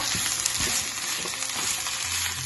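Grated coconut stirred into a mixture in a frying pan: a constant close hiss of frying with soft, irregular scrapes and knocks of the spoon against the pan, with no voices.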